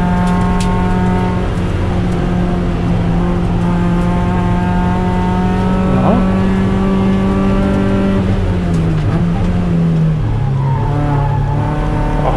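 More than 30 Mazda MX-5 Cup race cars at Ring Knutstorp make a loud, dense engine drone as they circuit together, pitches overlapping and shifting with gear changes and revs.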